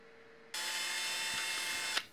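A small power drill bores lashing holes in the landing gear of a Q-Tee model plane. After a soft lead-in, the motor whines steadily for about a second and a half, close and bright, then stops abruptly with a slight spike at the end.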